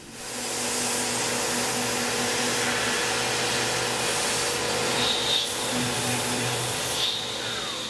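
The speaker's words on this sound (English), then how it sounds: "Now we'll finish off the contours with a 2D contour. Same tool, still at 7500 RPM" A CNC mill at 7500 RPM cuts a 2D finishing contour on a part for a DIY turret lathe, a loud, steady whining roar with faint high tonal squeals, alone without talk.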